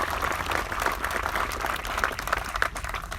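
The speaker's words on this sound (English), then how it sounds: "How about a round of applause for them?" Crowd applause at an 11th Airborne Division military ceremony at a base in Alaska, a sustained spread of clapping from many people heard at a distance with a low outdoor rumble underneath and a few sharper claps standing out.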